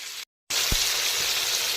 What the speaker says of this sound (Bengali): চিংড়িগুলো কিন্তু মিডিয়াম ফ্রাই হয়ে গেছে